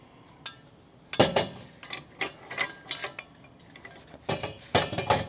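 Metal clanks and ratcheting clicks come as the propane cylinder crossbar on a 2020 Gulf Stream Envision 21TBD travel trailer is lifted aside, a handful of close, sharp knocks and rattles over a quiet background.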